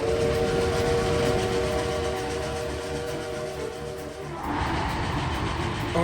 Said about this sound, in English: Oh hey, it's the train from